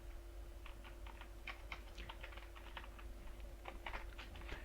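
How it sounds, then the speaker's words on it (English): Fingers type on a computer keyboard in quick, uneven bursts of soft clicks, heard close up against a faint steady hum, with no talking. "I'll just type it in, and we're going to type beginning section"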